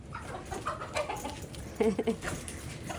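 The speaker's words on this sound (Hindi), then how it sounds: "एक मुर्गी वो रही नीचे" A hen clucks in short, soft bursts against steady outdoor background noise, fairly close but not loud.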